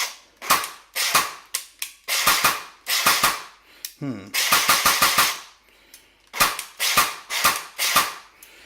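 An airsoft M4 CQB gearbox with a GATE MERF 3.2 MOSFET fires repeated single shots, each a sharp mechanical crack-whir in an irregular series with short gaps, close and loud, with no talking.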